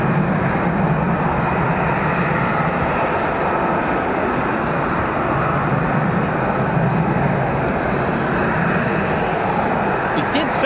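Flight of F-35B stealth fighter jets, a pair following a singleton, roars as a loud, sustained broadband rumble that holds steady throughout with no break.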